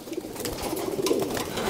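Pigeons coo softly at the trapdoor of a loft and aviary, a low, steady, burbling murmur from several birds close by, with no voices.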